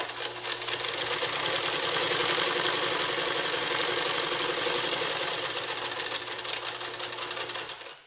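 A General Japanese-made sewing machine stitches garment leather in a steady, continuous mechanical whir that runs close and even for about eight seconds, with no talking.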